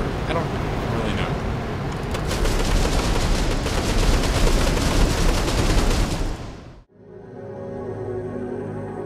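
Aircraft guns fire in War Thunder during a Jaguar GR.1A versus MiG-21MF duel: a loud, dense stream of rapid gunfire and engine roar for about six seconds cuts off abruptly, leaving a quieter steady engine drone.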